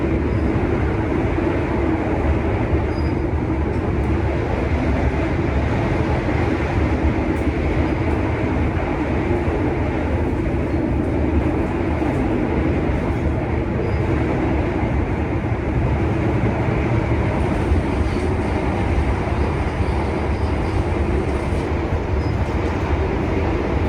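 Argo Dwipangga passenger train travelling between Jakarta and Solo, heard from inside the carriage as a steady, loud low rumble and rolling drone that carries on unbroken throughout with no talking.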